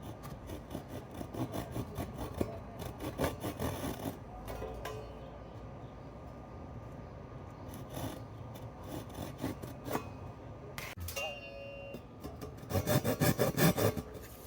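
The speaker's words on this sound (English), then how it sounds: "Gonna be using my Japanese saw" Japanese hand saw cutting through a wooden guitar neck for a Telecaster-style build, with close, rhythmic rasping strokes in bursts, a pause midway, then quicker strokes near the end.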